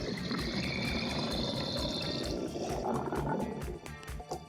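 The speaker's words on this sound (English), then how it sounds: "The next step is to flush the toilet and hold down on the handle until all the water is drained out." Toilet tank water draining out during a flush with the handle held down, a continuous rushing, gurgling pour close by that thins toward the end.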